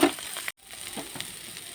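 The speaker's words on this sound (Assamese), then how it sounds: "এতিয়া মটৰখিনি তেলত দি ল'লোঁ," Green peas go into hot oil for an Assamese pea and sesame chutney, giving a brief, soft sizzle with light stirring and a moment of near silence partway through.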